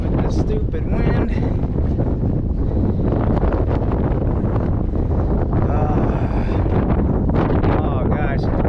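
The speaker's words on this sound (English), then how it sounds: "With the stupid wind." Strong wind buffets the microphone atop the Mt Davis observation tower in Pennsylvania, a continuous loud roaring rush with gusty swells throughout, and a person's voice mixed in beneath the noise.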